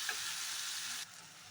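Poppy seed paste being stirred into ridge gourd and potato frying in a pan gives a steady, close sizzle with soft stirring scrapes, dropping quieter near the end.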